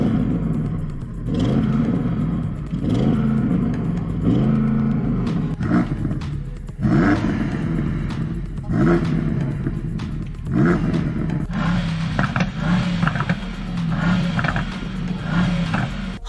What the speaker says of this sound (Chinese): 接下来我们来听一下声浪对比